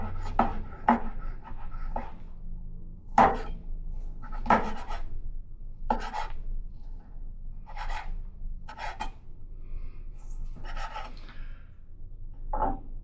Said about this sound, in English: We'll give those a quick slice.